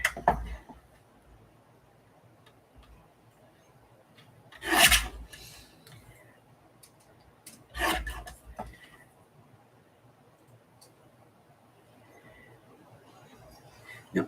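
Scissors cutting paper for a handmade journal: two short, rasping snips a few seconds apart over a quiet room, fairly close and soft.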